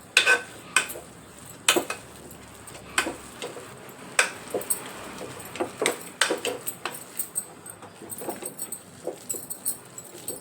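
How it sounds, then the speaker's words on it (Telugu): A spoon clinks and scrapes against a bowl as chilli powder and chaat masala are stirred into a chaat, giving sharp irregular taps spread across the clip over a quiet background. "దీంట్లోకి 1/2 స్పూన్ కారం, 1/2 స్పూన్ చాట్ మసాలా, 1/2 స్పూన్ చాట్ మసాలా వేసుకొని కలుపుకోవాలండి"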